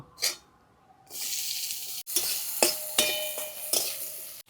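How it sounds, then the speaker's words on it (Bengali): Chopped onion hits hot oil already tempered with a fresh bay leaf and cumin for a black carp and potato curry, breaking into a steady close sizzle after a brief splash, with occasional clinks of a stirring utensil. "এবার কেটে রাখা পেঁয়াজটা দিয়ে দেব"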